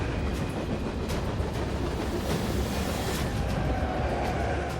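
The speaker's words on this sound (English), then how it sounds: "First on the list, an iron ore train." Iron ore train rolling along an Australian railway line, a steady loud rumble with rhythmic clicks of wheels over rail joints, heard alone without talk.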